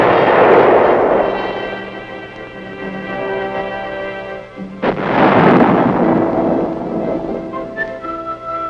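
A test gun at Aberdeen fires, and its booming muzzle blast rolls out loud and reverberant. A second heavy report lands midway and then decays into a long rumbling tail.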